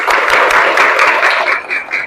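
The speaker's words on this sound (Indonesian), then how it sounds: "Tepuk tangan dulu dong." Students in an Indonesian junior high school classroom clap together in a loud, close burst, with quick uneven beats running throughout.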